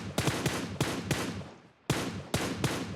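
PUBG gunfire rings out in a rapid sequence of loud, close shots, roughly seven cracks in quick pairs with a brief pause midway, no talk over them.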